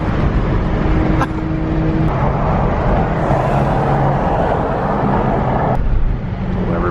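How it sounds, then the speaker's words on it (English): A Toyota Supra with a big turbo roars past with a loud, steady engine drone. The tone shifts midway as it goes by, and a few faint voices sound underneath. "What is that? Is that a Supra?"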